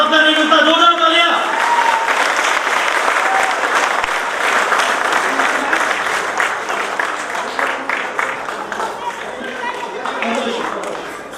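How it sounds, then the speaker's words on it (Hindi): A crowd at a Dr. Ambedkar Jayanti award ceremony breaks into loud, sustained applause as a gold medal is presented, the clapping starting over a brief musical tone and then slowly thinning out. "जोरदार तालियां।"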